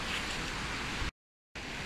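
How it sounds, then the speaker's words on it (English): A trout fishing river flows in a steady broadband rush of water, loud and continuous, broken by a short gap of silence before resuming. "Still quite a good trout fishing river this."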